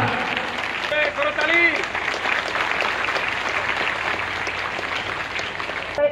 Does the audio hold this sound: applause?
yes